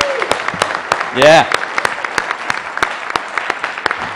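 Audience applause at a tech event, a steady scatter of claps running throughout with a brief spoken word from the stage partway through.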